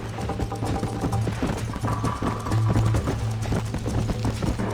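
Horses galloping in a race, hooves clip-clopping in a quick uneven rhythm close by, with music or other sounds layered underneath and no clear talk.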